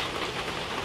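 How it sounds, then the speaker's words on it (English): Heavy rain pours down outdoors in a dense, steady hiss that fills the whole short moment, loud and unbroken with no voices. "I don't know if the audio is messed up because of the loudness of the rain"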